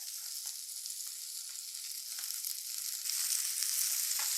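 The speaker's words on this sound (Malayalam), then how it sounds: "ആ വെണ്ടയ്ക്കയും കൂടെ ഒന്ന് ഇട്ടേക്കാവേ" Okra sizzling and frying in hot oil with shallots and dried red chillies for a quick sambar, a steady bright crackle that builds slightly louder toward the end, close up with no talking.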